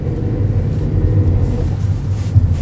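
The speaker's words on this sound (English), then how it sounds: "I'm driving this Volkswagen Polo. First gear, second gear now." A 2014 Volkswagen Polo 1.2 TSI 66 kW under way while shifting into second gear, a steady low engine and road rumble heard from inside the cabin, with no talking.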